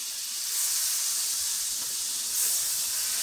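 A small chunk of butter melts on a hot grill, giving a steady, bright hiss and sizzle close by that swells slightly partway through, with no talking.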